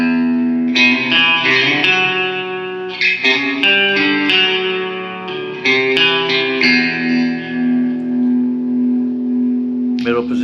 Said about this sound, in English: a couple little demos of a clean tone, which I have a little reverb going through, and an EQ pedal through like a Fender amp head